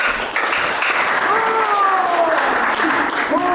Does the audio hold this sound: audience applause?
yes